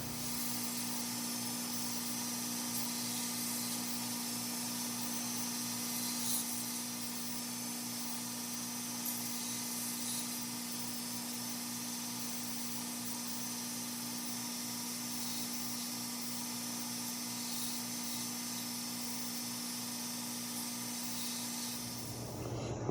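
A cable damascus utility knife is sanded at 800 grit, giving a continuous, even grinding whir that holds steady throughout before cutting off at the very end, with no voices.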